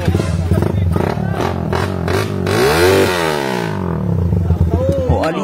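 A motorcycle engine revs up and down close by, its pitch swooping, while people talk over it.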